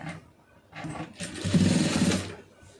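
A sewing machine runs a short burst of stitching along a folded fabric edge, a steady close mechanical whir that begins after a second of quieter handling noise and fades at the end.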